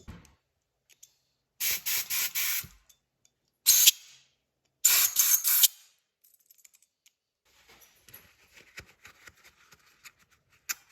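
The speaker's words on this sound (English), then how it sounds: "So make sure you get that all sprayed out." Compressed air sprays out a part from a 1998 Polaris 600 XLT Special snowmobile in three loud, close hissing bursts, the first one pulsing, followed by faint scattered rattles and clicks.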